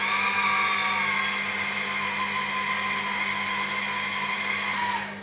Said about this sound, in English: We're just going to mix until everything is combined.